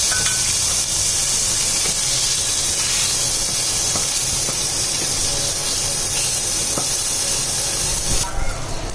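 Dried fish (shutki) frying in a light coating of oil, giving a steady, loud hiss and sizzle that runs unbroken throughout, close up, with no talk over it.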